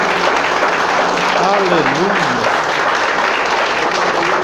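Church congregation applauding and glorifying together, a steady dense wash of clapping with voices singing and calling out over it throughout.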